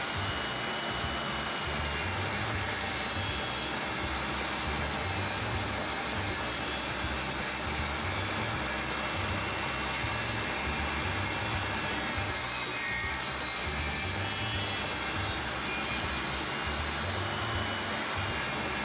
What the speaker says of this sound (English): rip down the two 1x6s into two 1x3s and three 1x2s